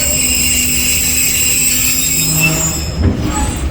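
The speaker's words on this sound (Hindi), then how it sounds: "बहावलपुर रेलवे स्टेशन से रवाना हो रही है।" Jaffar Express train pulling out of Bahawalpur railway station, a loud steady rumble with sustained high wheel squeals and ringing tones, growing slightly rougher near the end.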